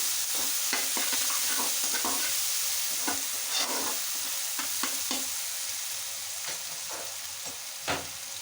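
Spice paste frying in oil until light brown, a continuous close sizzle broken by a series of stirring scrapes, no talking.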